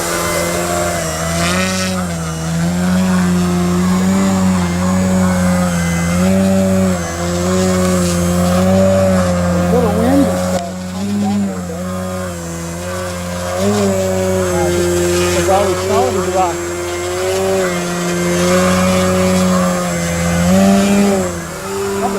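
Motor of a PA Addiction XL V2 RC model airplane hovering, a loud, steady, high-pitched buzzing drone with rising and falling pitch throughout, with talk heard in the background.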